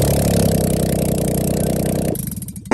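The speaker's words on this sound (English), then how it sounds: "It's got the full dual system Flowmasters exhaust and headers on it." The V6 engine of a cheap drift build with headers and a full dual Flowmasters exhaust rumbles at idle, steady and close, then briefly blips and drops off near the end.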